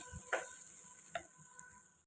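Food is fried dry in a pan on a home gas stove and stirred, with two distinct utensil scrapes and clanks over a faint, quiet sizzle.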